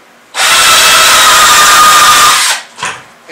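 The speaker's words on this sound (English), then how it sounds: "I'm going to put three or four holes in the bottom, probably about two-thirds as big as this Unibit." A power drill driving a Unibit step bit through the plastic bottom of a container, a loud close whine lasting about two seconds, then a couple of short follow-up bursts as the bit is pulled back.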